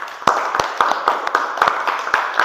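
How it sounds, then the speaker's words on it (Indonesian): A classroom group gives scattered, moderately loud claps for a student team. The rhythm is steady and fairly quick, with a murmur of voices underneath. "Tepuk tangan dulu untuk kelompok 3."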